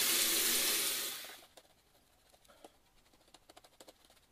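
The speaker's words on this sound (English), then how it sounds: "Rinse my face off." Water splashes onto a face during a rinse after a wet shave, a loud close burst of running and splashing water for about a second, then scattered faint drips and patters.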